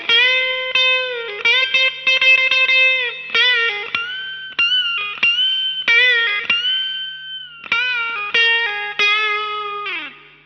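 An electric guitar with effects plays a picked solo, repeating clean sustained notes with bends and occasional squealing pinch harmonics, close and alone with no talk.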